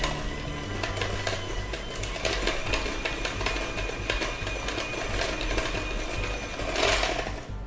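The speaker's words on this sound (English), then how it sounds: "we're going to cream it together with the butter again with the mixer" An electric mixer whirs steadily, creaming blue cheese into butter in a bowl for a frosting. The motor drone stays loud and constant for the whole stretch, with a slight surge near the end.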